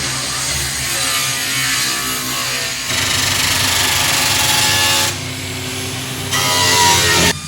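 A power grinder works on a fiberglass boat hull during restoration, giving a loud, steady, high-pitched whine. It shifts in pitch and intensity in distinct stretches as the tool bears down and eases off.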